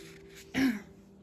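A single short throat clearing from a woman during a tarot reading, one raspy burst rising briefly out of quiet room tone.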